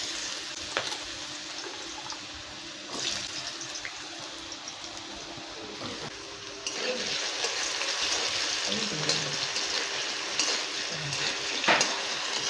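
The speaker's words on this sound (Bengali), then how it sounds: "আলুটা ভেজে নেব, তার মধ্যে তার আগে একটু দেব এলাচ দেব, কটা দারচিনি দেব" Potatoes fry in oil with cardamom and cinnamon in a wok, a steady close hiss and crackle broken by occasional clinks and scrapes of a utensil, with the sizzle swelling louder in the second half.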